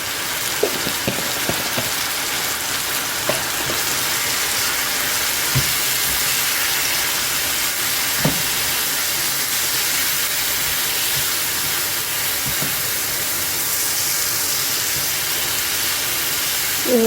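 Garlic and chilli powder sizzle in a pan for spicy garlic chutney, a loud, steady frying hiss broken by occasional soft pops and clinks, with no speech.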